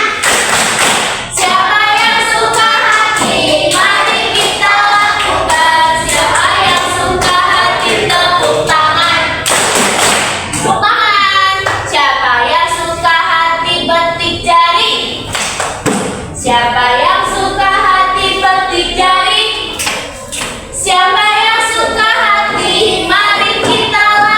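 Elementary school children clap their hands in rhythm to a clapping action song in a lower-grade classroom, steady repeated claps and thumps beneath loud group singing throughout.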